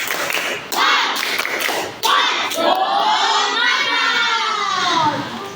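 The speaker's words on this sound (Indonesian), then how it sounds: "tepuk semangat" A class of children in a school classroom doing a rhythmic spirit clap, with loud claps and thumps in a steady pattern mixed with group shouting and chanting close by.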